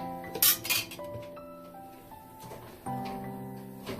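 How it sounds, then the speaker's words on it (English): A metal spatula scrapes and clinks against a hot pan while flipping a roti, a couple of close, sharp scrapes and taps followed by ringing pan tones and a faint background sizzle. "Then you take your spatula and you turn it over."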